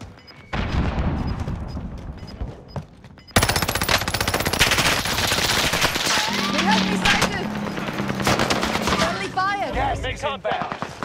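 Rapid automatic gunfire and shots in a Call of Duty Warzone match, loud and sustained, with bursts layered over one another and voices talking during the firing.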